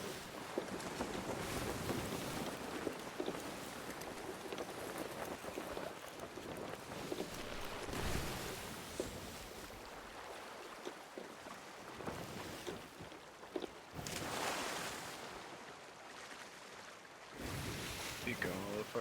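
Video game sailing ship at sea, with a broad rush of wind and waves swelling and easing across the scene while the ship moves steadily through the water.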